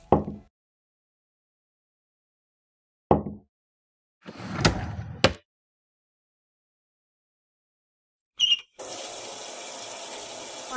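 Game sound effects from a Toca Boca morning routine: a few isolated knocks and clicks, then a tap turns on and water runs steadily into a sink for face washing.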